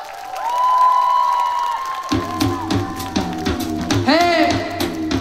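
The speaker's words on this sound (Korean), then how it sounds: "자, 그럼 힘찬 박수로 시작해보도록 하겠습니다." Festival audience at the 2025 Ulju Music Festival clapping and cheering before a guest singer's upbeat song, a steady crowd roar with whoops, then band music kicking in beneath the applause.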